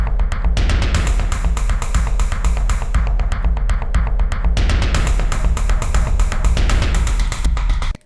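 Dense drum pattern from the Omnisphere Bob Moog Tribute Library with bright, unfiltered highs, no low-pass filter: rapid taps and hits over a steady low thump, loud and continuous throughout.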